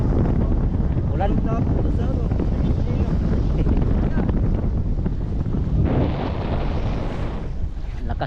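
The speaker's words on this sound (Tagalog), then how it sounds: "Lakas ang hangin." Strong wind buffeting the microphone on Guntao Island, Palawan, a loud continuous roar with gusting surges and possible sea noise, with people talking underneath.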